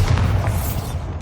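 A Bombarda explosion spell in Hogwarts Legacy, heard as a single deep, booming blast with heavy low rumble. It fades over about a second and plays alone without talk.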